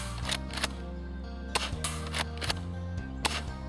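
A UTG M183a2 airsoft shotgun fires BBs at a dish sign, sharp snapping shots coming one at a time at irregular intervals over a steady low background hum, close and fairly loud.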